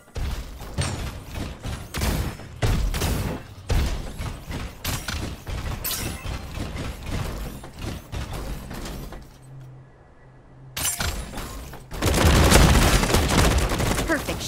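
Rapid bursts of mech-combat gunfire from Super Mecha Champions rattle in dense, loud volleys, pausing briefly before a heavier sustained barrage erupts at the end.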